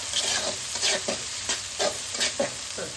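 Garlic, ginger and green chilli sizzle steadily in a hot pan of oil, with a spoon scraping and stirring in a regular rhythm of soft strokes over the continuous frying hiss.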